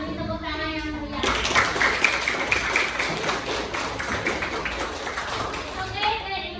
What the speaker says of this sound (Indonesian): Sekarang kita beri tepuk tangan yang meriah